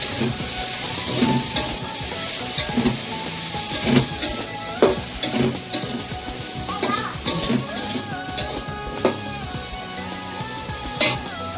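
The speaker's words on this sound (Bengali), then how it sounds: "চিকেন আলুর সাথে চিকেন ফার্স্ট ফ্রাই করছি" Chicken pieces fry with potatoes in a pan, a steady loud sizzle broken by repeated stirring and the clink and scrape of a utensil against the pan throughout.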